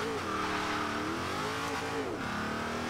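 A car in the racing game Forza Horizon 2 drives steadily, its engine holding a loud, continuous tone that rises and dips with revving, with faint tire noise and no talk over it.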